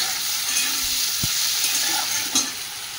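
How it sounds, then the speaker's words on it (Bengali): Prawns fry in hot oil with a continuous, close sizzle and occasional stirring clatters, while nobody speaks. "চিংড়িগুলো ভেজে তুলে নিয়েছি"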